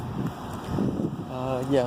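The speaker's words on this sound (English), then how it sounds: "we got a windy day here in Knoxville" Wind gusts buffeting a microphone outdoors in Knoxville ahead of an incoming storm, a steady rumbling rush that swells toward the end, with a voice heard briefly.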